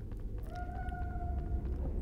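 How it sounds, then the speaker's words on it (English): Kitten meowing in the Harry Potter and the Sorcerer's Stone video game: one drawn-out, tonal mew lasting about a second, heard against a steady low rumble of game ambience and music. "I hear her down there meowing."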